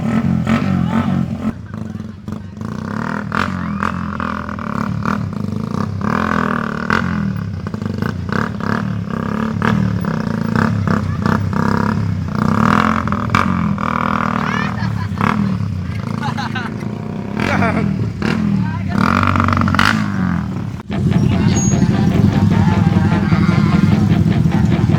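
Motorcycle engines idle and rev at a slow drag race event held at a Christmas party motor show, a steady loud rumble with rising revs, under a crowd and people talking nearby.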